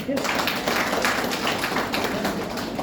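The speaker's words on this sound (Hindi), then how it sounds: "इतने कोहिनूर पर जोरदार ताली, जोरदार" Audience applause at a business opportunity meeting, a dense steady patter of many hands clapping throughout, fairly loud and close, with voices mixed faintly underneath.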